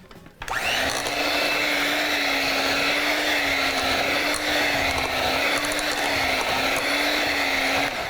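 A small electric mixer blends lemon cake batter with a steady high whine and constant motor drone after a quick start, running without pause and with no talk.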